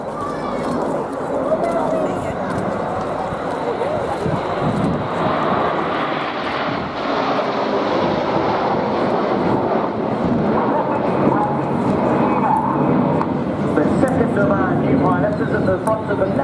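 RAF Red Arrows jets fly overhead in formation at an air show, a loud sustained roar that swells and rolls on, with an announcer talking over it throughout.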